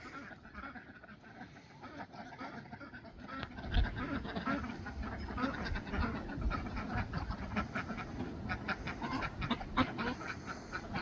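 A pet duck quacks loudly and repeatedly among other birds on a small farm, harsh rapid calls running continuously over a busy, noisy background.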